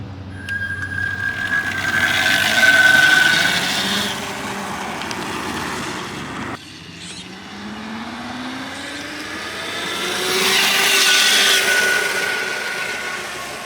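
A homemade street-legal electric motorcycle passes by twice, its whine and road noise swelling as it approaches and fading as it goes, loud near the closest points and heard alone.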